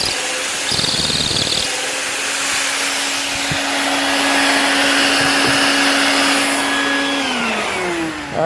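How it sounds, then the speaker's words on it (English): A wet vac runs continuously in a workshop, a loud, steady, high-pitched whooshing whine that holds its tone before spinning down near the end. "So let me turn my wet vac on."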